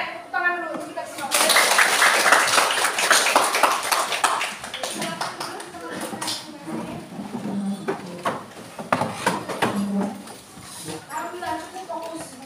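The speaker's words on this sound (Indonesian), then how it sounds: "tepuk tangan dulu kita semua" A class of children clapping their hands together in a school lesson, a dense, loud burst of applause that runs several seconds, then thins into scattered claps and taps mixed with voices.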